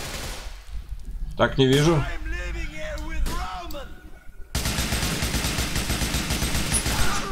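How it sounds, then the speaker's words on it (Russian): Gunfire aimed at the player in Grand Theft Auto IV, with sharp shots and a burst of rapid fire that ends in a loud, dense stretch of shooting, while someone talks briefly over it. "Кто где по мне стреляет?"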